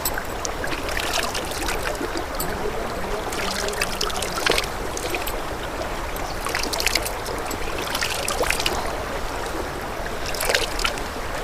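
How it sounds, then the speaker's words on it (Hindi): River water flows steadily through a forest, a continuous close rushing and trickling with small splashes throughout, fairly loud and without talking. "ये नदी के पानी देखा निर्मल।"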